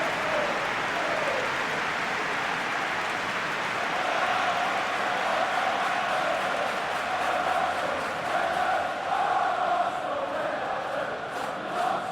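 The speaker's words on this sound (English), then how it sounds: "it certainly got the crowd going" Stadium crowd noise from PES 2021 football game, Arsenal vs Manchester United, a broad steady roar with cheering swelling after a shot, continuous and fairly loud throughout.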